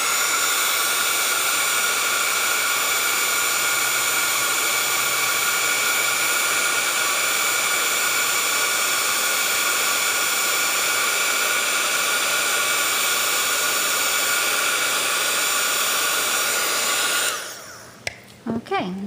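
Embossing heat tool blowing steadily to heat set a handmade Christmas card, a loud continuous close whoosh that runs for most of the time before cutting off, followed by a few brief handling knocks.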